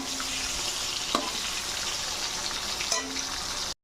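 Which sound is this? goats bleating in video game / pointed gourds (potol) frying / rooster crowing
pointed gourds (potol) frying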